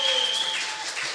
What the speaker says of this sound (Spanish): Pero un aplauso para los mixtos y para los jóvenes.